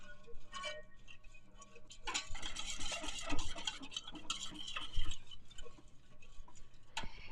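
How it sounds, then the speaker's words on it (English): A spoon stirs chocolate pudding on a hot Blackstone griddle, giving close scraping and ticking strokes with bursts of sizzling between quieter pauses. "as you see when I'm stirring it, I'm not like moving it all around"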